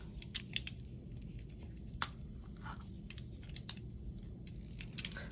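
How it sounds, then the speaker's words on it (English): Scissors snip through paper while making specimen cards, giving quiet, scattered crisp cuts at an irregular pace against a steady low background hum. "Sometimes I cut it with my scissors."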